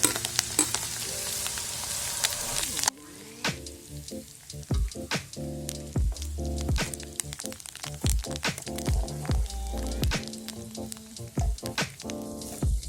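Garlic and green chilies fry in hot oil while lemon pickle is made at home, giving a steady bright sizzle broken by repeated sharp stirring clicks and taps close by.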